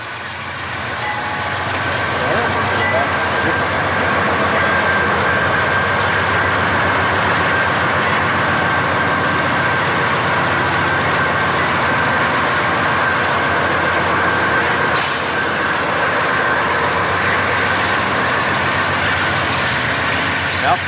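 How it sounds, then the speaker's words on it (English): A long, loud CSX freight train rolls past on the Clinchfield line with continuous rumbling and wheel clatter, a faint horn-like tone running through it. "Southbound trains leaving Tow River siding soon enter Vance Tunnel."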